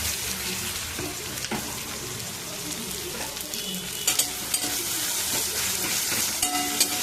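Chopped onion and garlic fry in hot oil with a dense, continuous sizzle, punctuated by a few sharp clinks and stirring knocks, close and loud with no talking.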